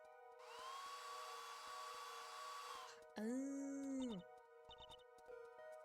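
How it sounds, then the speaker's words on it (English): Electric dryer blasting wet plaster in the Apollo Justice: Ace Attorney game, a steady whirring hiss for about three seconds, followed by separate tonal game sound effects and chimes. "Just press space to blast it with that dryer."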